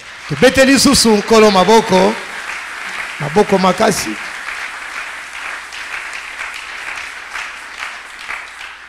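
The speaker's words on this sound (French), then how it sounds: "Est-ce qu'on peut acclamer le Seigneur?" A church congregation applauds the Lord with sustained clapping that swells and then continues steadily, while a voice speaks over the start of it.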